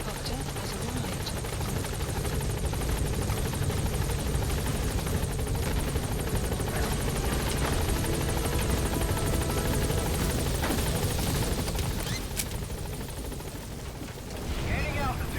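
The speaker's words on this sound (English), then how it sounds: "Support helicopter has arrived." A support helicopter arrives in Metal Gear Solid V, a loud continuous rotor thump and engine roar with game radio voices speaking over it.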